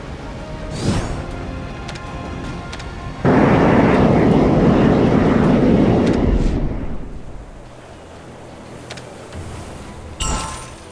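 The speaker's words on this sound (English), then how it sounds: "The jet squadron is ready for takeoff. Takeoff granted." Jet aircraft from the Gunship Battle mobile game roaring loudly as they take off, a sustained broadband rush lasting a few seconds, then fading away beneath a quieter game ambience with scattered short effects.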